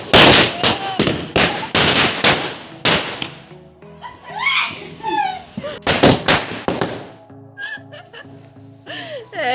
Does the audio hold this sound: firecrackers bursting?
yes